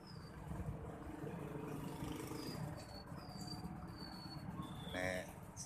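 Sirsir birds call from their nest in front of a house next to a post office, giving faint, thin, high chirps over a steady low traffic rumble outdoors.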